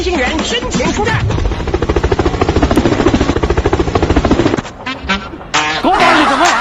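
A helicopter sound effect plays loudly with a fast, pulsing rotor chop that builds and then cuts out briefly before resuming, with voices mixed in.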